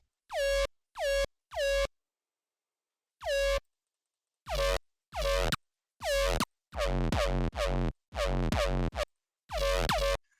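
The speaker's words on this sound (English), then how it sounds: "I don't like the more classic dubstep bass type of sound that it's giving right now." Loud, distorted dubstep wavetable synth bass stabs with a harsh, buzzing edge, hit in short bursts with gaps, then denser rhythmic bursts toward the end, no voices.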